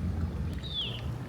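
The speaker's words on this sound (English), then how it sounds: "Noisy engine." A small boat's noisy engine drones steadily at a low, faint level, with wind-like rushing over it and a brief high whistle partway through.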